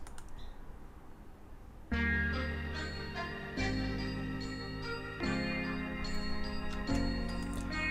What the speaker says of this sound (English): it's a pretty simple sample, kind of like soul, also like psychedelic, like 60s vintage sounding